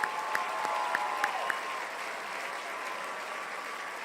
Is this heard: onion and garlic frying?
no